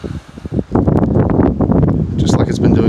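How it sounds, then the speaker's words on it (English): Strong gusts of wind with rain beside Lake Chapala in Jocotepec, Jalisco, Mexico, roaring and buffeting the microphone in loud, continuous surges that swell after a brief quieter start. "there are reports of 30 to 50 mile an hour gusts of wind tonight. And it is raining"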